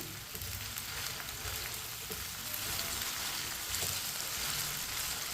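Okra pieces sizzle steadily in hot oil while a spoon stirs them, giving a continuous close crackle with occasional scrapes and no voices.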